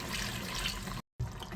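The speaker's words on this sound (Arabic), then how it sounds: "ممكن نزودها ميه تانية" Water poured into a pot of cooking meat for a beef tagine, a short continuous splashing pour that breaks off for a moment and then resumes.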